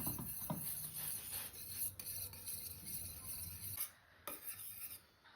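A spoon stirs a boiling chocolate coffee pudding in a pan, giving a steady scraping and rubbing against the pan that runs continuously, then breaks off briefly near the end before resuming, no talking.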